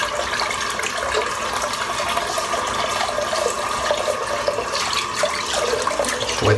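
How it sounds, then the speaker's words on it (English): Water runs steadily from a tap as a head is wetted before shaving, a constant close splashing stream with no talk. "Wet my head again."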